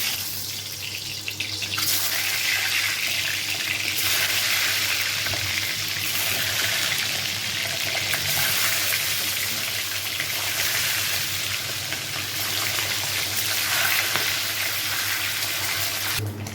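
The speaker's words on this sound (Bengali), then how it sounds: "এখন আমি ডিমগুলোকে সুন্দর করে ভেজে নেব" Eggs frying in a hot pan give a continuous, hissing sizzle that rises and falls gently for about sixteen seconds, with no voices.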